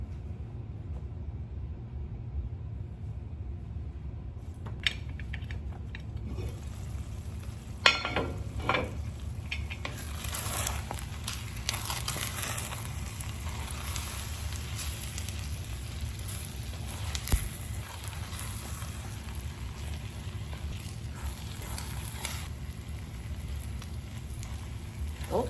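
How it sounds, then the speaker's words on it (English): A covered pot of arroz con pollo simmers over lowered heat, giving a steady, soft bubbling crackle throughout, with a few faint clicks and kitchen knocks near the start. "So now I'm just going to put my lid on, turn down my heat, and just let it simmer."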